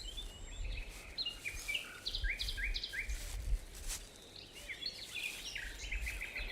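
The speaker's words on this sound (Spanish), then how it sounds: "luego se oye el canto de los pájaros y regresan los insectos" Out in nature, several birds sing in short, repeated chirping phrases over a soft bed of insect buzz, moderately distant and quiet, with no voices present.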